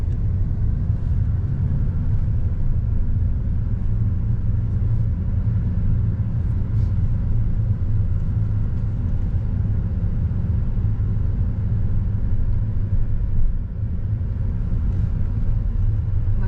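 Steady low traffic rumble of cars passing nearby in a seaside resort town, a continuous engine drone with no clear breaks and no talking.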